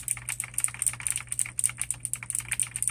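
Rapid, steady typing on a keyboard fitted with Kailh clicky mechanical switches, each keystroke a crisp, bright click heard up close, with no talking.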